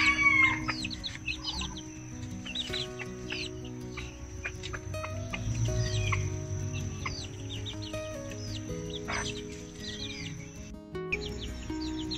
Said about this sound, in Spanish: Y aquí está la gallina